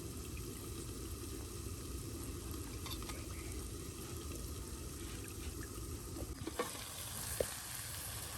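Small fish chorchori sizzles steadily in a pan, a dense, even frying hiss with occasional stirring scrapes near the end and no talking.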